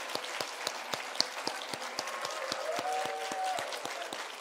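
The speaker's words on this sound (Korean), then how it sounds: "우리 인사할 때 뜨거운 박수로 환영해 주시면 감사하겠습니다" A church congregation at a Sunday service applauds in welcome, a steady wash of many hands clapping in a fairly even rhythm that fills the room, with a faint voice briefly underneath.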